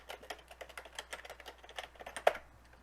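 Quick, irregular clatter of computer keyboard keys, a dozen or more rapid taps ending in one sharper, louder strike, followed by quiet.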